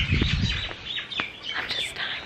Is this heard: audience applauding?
no